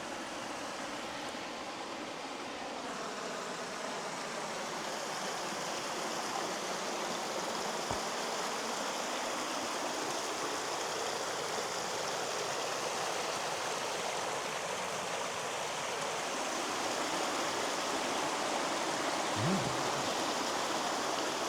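A creek in Arizona's White Mountains rushes steadily nearby in wet weather, a constant broad wash of flowing water with a few faint clicks and knocks, and no voices.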